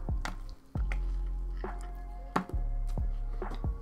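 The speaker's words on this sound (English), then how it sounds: "let's go ahead and take a bite out of this delicious quarter pounder" Wet, squishy crunches of biting into and chewing a McDonald's Quarter Pounder loaded with lettuce and bacon, several close-up soft bites and chews spread over a few seconds.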